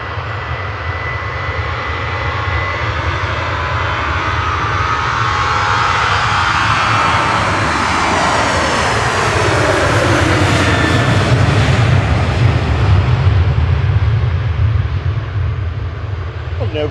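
A Boeing 737-800 jet climbing out of Manchester Airport on departure to Gothenburg, a loud roaring jet engine swell with a sweeping whine that builds and passes overhead, filling the whole stretch.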